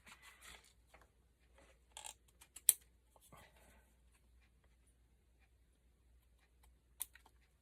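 Scissors trim folded paper fans in a quiet room, a few soft, sparse snips and paper rustles with one sharp click, then long near-silent gaps.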